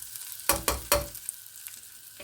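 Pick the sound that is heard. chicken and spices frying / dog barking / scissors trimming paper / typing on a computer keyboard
chicken and spices frying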